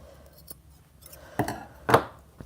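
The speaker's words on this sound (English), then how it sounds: "I pulled out the bluntest scissors I own." Blunt scissors cut a thrifted T-shirt in a few sharp, distinct snips, two of them louder near the end, set against a quiet indoor background with no talking.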